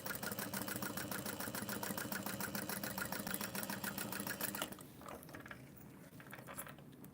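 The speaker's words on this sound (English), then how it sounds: "So I'll just do a second row of stitching. Just kind of right above it." A sewing machine runs steadily, stitching a second row just above the first on a small hand-cut piece, with a fast, even mechanical rattle that stops abruptly after about five seconds, leaving quiet room noise.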